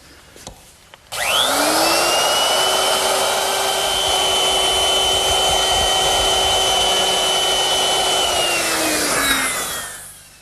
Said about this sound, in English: And to do that, I'm going to use my router. And I've set it up with a 1/4-inch rounding over bit.